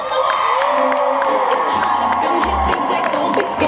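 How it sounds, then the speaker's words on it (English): Breast cancer walkers at the Three Day Walk closing ceremonies in Washington DC, 2013, form a dense crowd shouting, whooping and cheering continuously, loud and close, with scattered voices rising out of the din. "we heard shouts of triumph"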